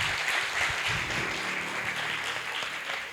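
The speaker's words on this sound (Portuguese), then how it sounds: "Palmas aí para vocês pela atividade" An audience at a talk on time management applauds steadily, a dense wash of clapping that holds for a few seconds and fades slightly at the end.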